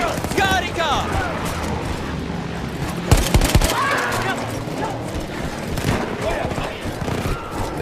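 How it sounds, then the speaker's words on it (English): An anti-aircraft cannon booms amid scattered gunfire in Battlefield 1, with steady battle noise throughout, a cluster of heavy, sharp blasts near the middle, and soldiers shouting over the din. "Quel cannone antiaereo sta abbattendo i nostri bombardieri! All'attacco, fuoco!"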